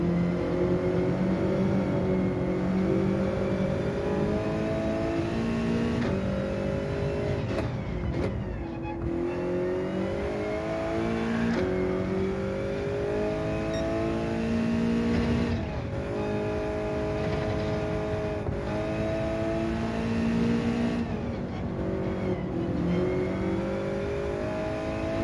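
Toyota 86 drifting in Gran Turismo 7: the engine revs hard and steadily, rising and dipping in pitch with repeated shifts and throttle lifts, loud and close, with no voices.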